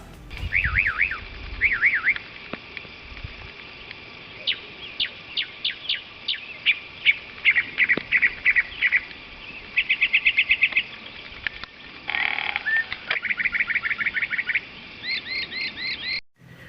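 A mockingbird sings a long run of varied phrases, rapid repeated trills and chirps mimicking other birds and a car alarm, delivered in distinct bursts with short pauses, fairly close and clear with no talking.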